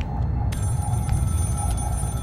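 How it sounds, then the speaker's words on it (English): A telephone rings in the Scream horror video game, a muffled repeating bell pulse heard at a distance over a low rumbling ambient drone. "A phone is ringing."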